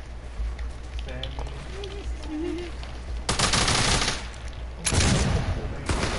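A voice talks briefly, then short, loud bursts of SMG fire crackle in a video game, with a second burst following a moment later.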